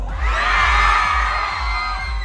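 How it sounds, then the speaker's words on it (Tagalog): A large crowd at a film festival parade lets out a loud, sustained cheer and shout, a dense roar of many voices with children's yells, close and continuous for about two seconds. "Isang malakas na sigaw, okay?"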